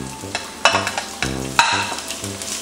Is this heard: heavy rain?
no